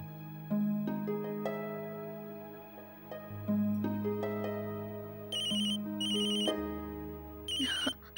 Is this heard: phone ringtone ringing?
yes